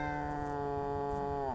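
A cat in the alien horror game Greyhill Incident, a strange alien-modified bobcat, lets out a single long, tonal meow that holds steady and then drops off sharply at the end, clear and alone.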